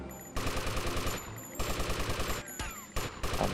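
Automatic gunfire in GTA Vice City, rapid repeated bursts of shots with short pauses between volleys, fairly loud and close, with no voices.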